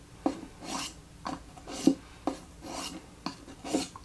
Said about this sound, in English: I can feel the sandpaper